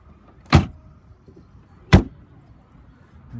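The cubby hole lid inside a Smart 1.0 71BHP Pulse MHD Coupe is shut, making two sharp, close plastic thuds about a second and a half apart against a quiet interior.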